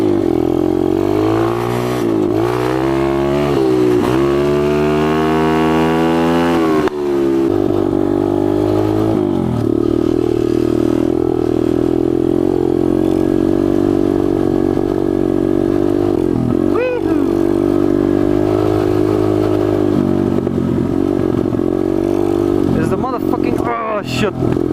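A pit bike's engine revs hard and continuously at close range during an off-road burnout, its pitch repeatedly rising and falling with loud, rough buzzing throughout and sharp rev spikes near the end.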